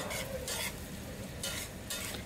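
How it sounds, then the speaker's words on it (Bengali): Onions sizzling in a pan while being stirred, with bursts of scraping and hissing every half second or so. "এই পেঁয়াজটাকে আমি খুব সুন্দর করে ভেজে নেব"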